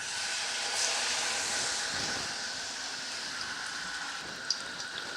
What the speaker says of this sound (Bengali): এবার আমি এটা তেলের মধ্যে দিয়ে দেব।